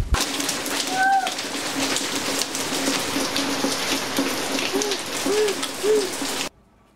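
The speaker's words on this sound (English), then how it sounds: "It's actually raining." Steady rain hisses throughout, falling around a Weber Summit S670 gas grill, with a few hooting calls rising over it, one early and several later; the rain cuts off abruptly near the end.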